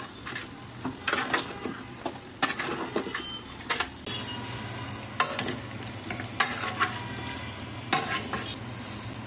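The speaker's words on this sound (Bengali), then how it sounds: "দিয়ে দিলাম কিউব করা পেঁয়াজ। বাকি মশলাটা দিয়ে দিচ্ছি।" Cubed onions and spices stir-fry in a pan for beef kala bhuna, with a steady sizzle and repeated scrapes and clinks of a spoon stirring, close and without talk.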